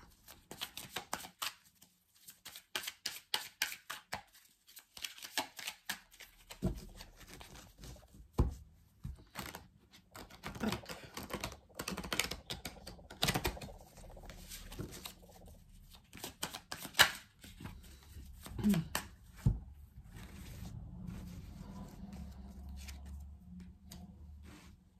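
Cards from The Oracle of the Radiant Sun oracle deck are shuffled and drawn by hand, making close, quiet bursts of riffling, rustling and flicking that come irregularly, with no voices.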